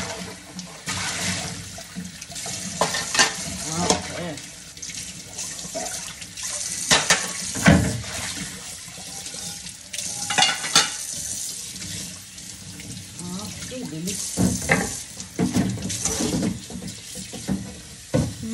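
A pot being washed under a running kitchen tap, with a steady rush of water broken by splashing, scrubbing and occasional light clanks of the pot, heard up close with no talking.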